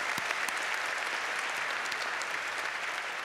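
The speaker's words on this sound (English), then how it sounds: "So let's give them a nice round of applause to our colleagues in the College of Science and Math." A large audience at a Cal Poly fall commencement ceremony applauds for faculty, a steady dense wash of clapping that stays even and full throughout without a break.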